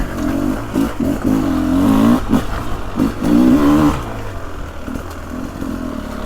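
A 2024 Beta 300 Race Edition two-stroke dirt bike chugs along in second gear on a woodland trail, its engine loud and close with a steady low throb that swells and eases over several seconds.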